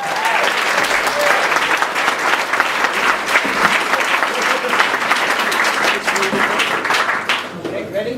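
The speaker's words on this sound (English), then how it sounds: "Big round of applause," A crowd at a BettaKultcha event in Leeds bursts into sustained, enthusiastic applause for a speaker, with dense clapping and a few cheers, fading slightly near the end.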